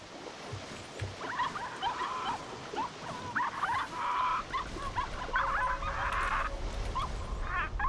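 A dog in The Cave video game gives repeated short yips, whimpers and whines, fairly close and restless, over a low rumbling ambient background with no talk.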